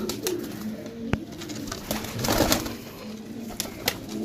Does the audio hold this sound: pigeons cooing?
yes